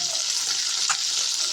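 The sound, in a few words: fish frying in hot oil in a wok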